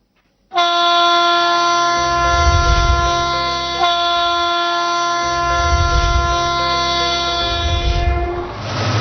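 Freight train on an Indian Railways line sounding a long, loud multi-tone horn that holds steady for about eight seconds over the low rumble of the passing wagons, with no talk.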